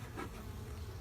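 Honeybees buzz around a hive, a soft continuous droning hum that is faint and close, with one slightly louder swell early on.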